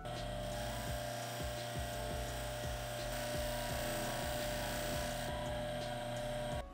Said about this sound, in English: What I'll be using is a Scotch-Brite wheel here on a buffing machine